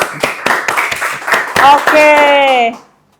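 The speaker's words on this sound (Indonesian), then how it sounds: "boleh tepuk tangan dulu" A small group claps briefly for a doctor on a health podcast about diabetes myths, with a few sharp claps up close before a voice takes over.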